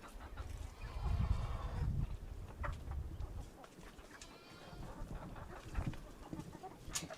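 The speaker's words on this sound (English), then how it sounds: "There's a little red hen there too." A small red hen clucks intermittently outdoors on a homestead, with low rustling and broadband yard noise, the clucks moderately close and louder early on.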